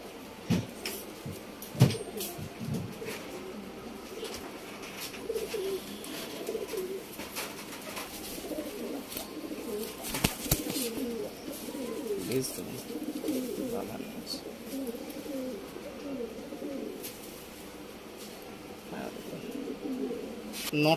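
Several domestic pigeons coo in low, throaty bursts close by, with rustling, flapping and scattered knocks around them, while a person talks intermittently over the birds.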